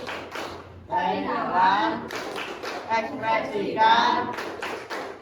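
Group of participants doing the 'tepuk emosi' clapping game, crisp rhythmic hand claps in short patterns alternating with a woman's chanted instructions over them.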